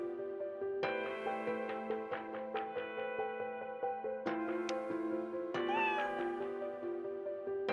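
Video game Another Eden: a cat gives a short meow late on, set against bright, plucked background music with sustained tones and repeated note attacks.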